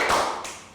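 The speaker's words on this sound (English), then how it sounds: "2 claps" Two quick hand claps about a third of a second apart, bright and close in an indoor room, the first slightly louder, with no talking.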